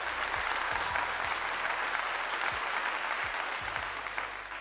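Steady applause from a gathered audience during a sports talk segment about Colorado and Arizona State college football, dense, even clapping filling the whole stretch with a muffled low hum underneath.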